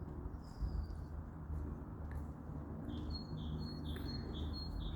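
Outdoor birdsong with a rook and a magpie nearby, several thin high chirps and short tweets scattered over a low rumbling background, fairly faint and without speech.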